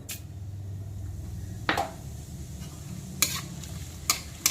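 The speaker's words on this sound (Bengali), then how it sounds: "তেল আর রিফাইন তেল আর ঘিটা কিন্তু গরম হয়ে গেছে, এখন দিয়ে দিচ্ছি ফোড়ন" Whole cumin and whole garam masala hiss and sizzle as they hit hot refined oil and ghee, with a steady fry broken by sharp crackling pops, close and moderately loud.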